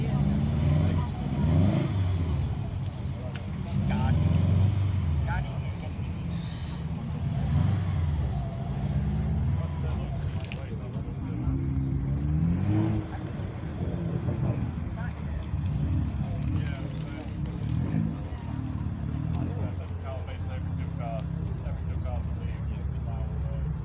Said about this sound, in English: An old British sports car of some description, and the Mustang arriving.